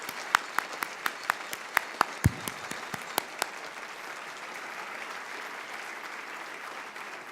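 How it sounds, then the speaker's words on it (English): Applause at a Mississippi State alumni awards banquet, a steady wash of clapping from a seated audience, with a few sharp nearby claps standing out early before the sound evens into a continuous patter. "A big round of applause for our 2011 honor chapters."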